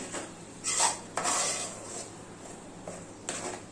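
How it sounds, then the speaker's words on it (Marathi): Utensils clatter against a pan as masala paste is stirred and sautéed in oil for a Malvani-style spicy mutton curry, with a few distinct scraping bursts over a quiet kitchen background. "मसाले घालून झाले आपल्याला हे वाटण छान परतायचं आहे"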